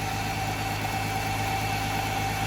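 A running Dodge V6 with a failing alternator, giving a steady engine drone with a constant high whine held over it, close and unchanging throughout.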